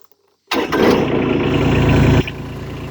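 TYM 224 sub-compact tractor engine cold-started: a sudden loud crank catches into a roaring rev, then drops to a steadier, quieter idle near the end.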